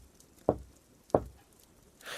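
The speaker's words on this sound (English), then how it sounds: "all of a sudden 3 knocks tapped against the front door" Knocks on a front door in a snowy night-time story scene: two distinct, sharp raps roughly half a second apart, fairly close and isolated against a quiet background, with a faint rising hiss at the end.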